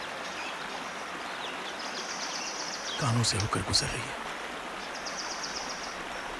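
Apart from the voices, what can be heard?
water flowing from a waterfall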